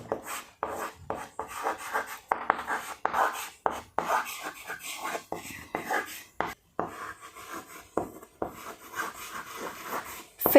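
Pen or marker scratching out notes on a board during a classroom biology lecture on cardiac muscle tissue, a steady run of short rubbing strokes in bursts with brief pauses, close and moderately loud, with no talking.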